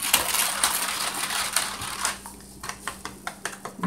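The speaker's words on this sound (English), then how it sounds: "So you just continue to mix it." Peach cobbler ingredients are stirred in a bowl, with a steady scraping swish that gives way to a run of sharp, rhythmic clinks of a utensil against the bowl, close and without talk.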